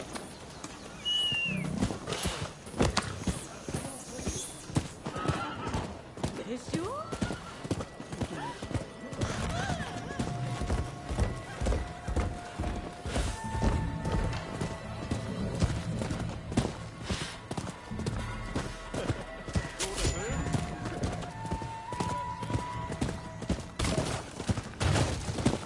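Horse hooves clip-clop steadily with occasional whinnies in a video game, layered over busy game music, effects and bursts of talk throughout.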